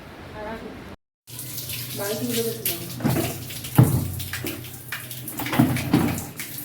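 Water runs from a tap while a baby's bath is filled at home, a steady hiss and splash continuing under a voice and the low chatter of a child.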